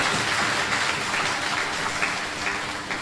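Sustained applause from an audience at an award ceremony in Mayaro, a steady dense patter of many hands clapping for the full stretch with no voices on top.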